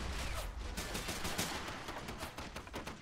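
Dense, continuous battlefield gunfire from the WWII strategy game Men of War: Assault Squad 2 (Pacific mod, storming Shuri Castle), with rapid overlapping shots and machine-gun bursts at steady loudness throughout.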